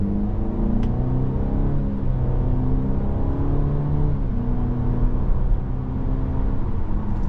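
A 2025 Cadillac XT4 AWD SUV accelerates in manual mode, its engine note climbing in pitch and then dropping at each smooth gear shift, heard from inside the cabin as a steady hum with repeated rising sweeps.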